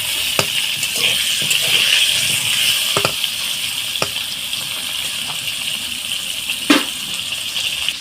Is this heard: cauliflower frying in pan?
yes